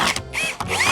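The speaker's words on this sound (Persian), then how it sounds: "لیتس گو، بریم برای اولین پیچ." Power drill driving a screw into old, rotted wood at a cabin, loud close whirring bursts that stop and restart several times in quick succession.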